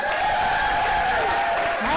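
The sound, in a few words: spectators cheering for the route setters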